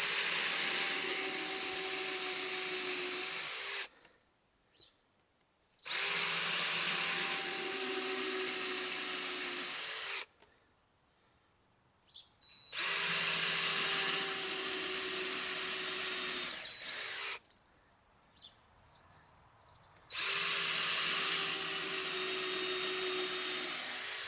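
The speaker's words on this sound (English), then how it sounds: "So there you have some nice holes drilled in there" A power drill boring holes into shiitake mushroom logs runs loud and high-pitched in four long bursts of several seconds each, with short silent pauses between the holes.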